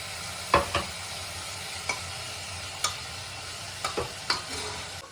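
Chicken sizzles steadily in a pan with onions and ginger-garlic-chili paste, with a soft frying hiss underneath and occasional sharp scrapes of a stirring spoon, close but fairly quiet.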